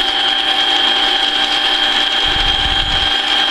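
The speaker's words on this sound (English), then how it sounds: "I'm just watching the back side of the piece for the drill bit to pop through." A power drill whines steadily at a high pitch, loud and close, with a lower grinding rumble as the bit bites through wood near the end.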